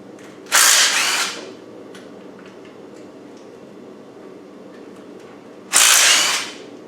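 A power tool, likely an impact gun, zaps tight bolts off the engine of a Spanish 110 in two loud, short bursts about five seconds apart, with quiet workshop background between them.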